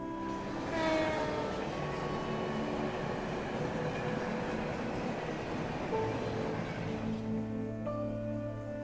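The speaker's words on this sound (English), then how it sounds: "Is that the last train bound for Calvert?" A train passes in the video game Trails from Zero, a steady loud rolling rumble with rail clatter and sustained tonal hum that eases off toward the end, with no talk.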